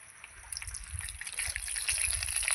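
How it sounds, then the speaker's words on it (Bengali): Oil pours into a wok used for frying fish, a soft, steady gushing that builds gradually over a couple of seconds, close by with no talk. "এবার কড়াইয়ের মধ্যে কিন্তু আমি আবার তেল দিয়ে দেবো মাছের ঝোলটা করার জন্য।"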